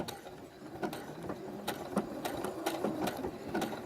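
A budget home sewing machine sews a blanket stitch on a flag star appliqué quilt, close and steady, its motor whirring under a regular rhythm of needle thumps, with no talk.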